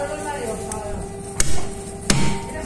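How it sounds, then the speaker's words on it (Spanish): A sharp cleaver chops through a beef hip bone in a butcher shop, two heavy, close thwacks about a second apart over a steady background hum. "Hay que darle un golpe certero"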